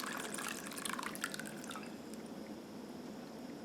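Homemade walnut stain is poured through a cheesecloth-lined sieve into a jar, a faint liquid trickle and dripping that fades into a soft steady hiss.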